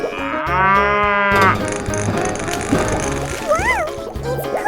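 A cow moos in a 3D animal slide video game, one loud drawn-out call near the start, followed by game sounds, a springy boing and mechanical clatter, with no voices over it.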